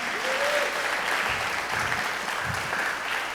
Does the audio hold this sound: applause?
yes